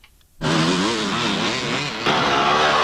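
KTM 300 off-road motorcycle at a hare and hounds race, its two-stroke engine snapping in loud and close, revving with a wavering pitch before the throttle opens again.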